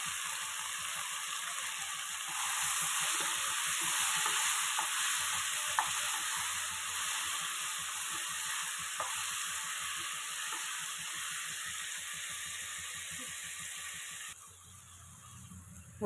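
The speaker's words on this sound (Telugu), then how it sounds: "ఇప్పుడు వంకాయలండి, వంకాయ ముక్కల్ని వేసుకోవాలి" Brinjal pieces, added after chilli powder for a brinjal and raw mango curry, fry in a pan with a soft, steady sizzle and faint stirring clicks, then quiet down near the end.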